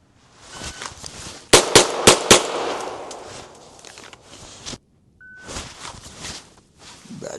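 Four rapid pistol shots crack out in a tight burst during a holster draw drill with a Safariland IncogX holster, loud and close, followed by a brief pause and then rustling movement and handling noise.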